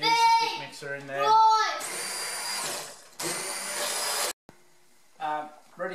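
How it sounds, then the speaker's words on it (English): A stick mixer blends homemade sugar-free tomato sauce thickened with a spoonful of starch, giving two bursts of loud whirring buzz between stretches of a voice and child-like chatter nearby. "To mix it in, simply use the stick mixer in there."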